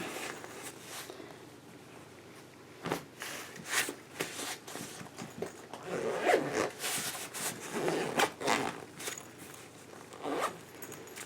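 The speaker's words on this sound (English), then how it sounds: "Alright, I just zipped it up." A packing cube is zipped shut, drawn out as a series of close, bright zipper pulls with short pauses and some soft handling and rustling of clothing, no talk.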